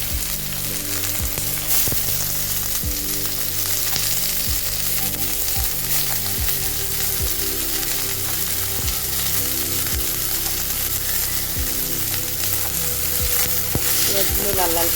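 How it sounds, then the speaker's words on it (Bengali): Sliced onions fry in a pan with whole garam masala, cardamom and cloves, a steady loud sizzle running throughout with regular scrapes of a spatula stirring them. "পেঁয়াজগুলো লাল লাল করে ভাজবো না,"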